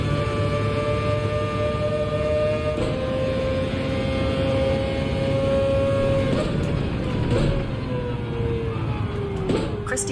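Engine of a race car in the video game Gran Turismo 7, a steady loud drone with rising and falling pitch as it revs and shifts, continuous throughout with voices faintly in the background.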